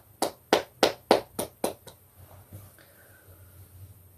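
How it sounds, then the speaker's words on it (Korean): Seven crisp, evenly spaced hand claps ring out close and loud at a church service, then stop, leaving a quiet room with faint background noise. "우리 자라나는 미래의 주인공들을 위해서 더 큰 격려의 박수를 부탁드리겠습니다"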